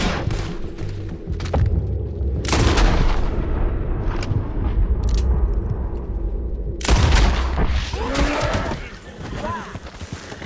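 Gunfire rings out in Red Dead Redemption 2, several loud booming shots with echoing tails spaced across the scene, while characters talk between and over them.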